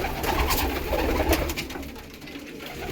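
Pigeons coo softly in a coop, low murmuring calls spread through a busy, noisy background with a few scattered clicks and taps, the sound easing slightly toward the end.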